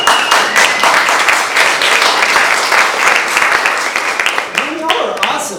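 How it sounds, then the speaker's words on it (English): Enthusiastic applause and cheering from a crowd at a speech by a climate group's executive director, steady and loud throughout, with voices mixed into the clapping. "I wasn't expecting like applause and stuff"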